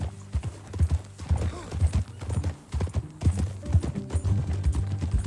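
Horses galloping together in Red Dead Redemption 2, a steady drumming of hooves with snorts and a neigh, loud and close, continuing under bits of talk.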